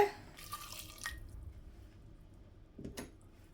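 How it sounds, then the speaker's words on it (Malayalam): Hot water poured into a pot of cooking lentils, a soft splashing gush in the first second, then a quieter simmering stretch and another short splash near the end, with no talking. "ബാക്കി ഞാൻ ചുടുവെള്ളം കൂടെ ഒഴിച്ചിട്ട് ഇത് വേവിച്ചെടുക്കുന്നുണ്ട്"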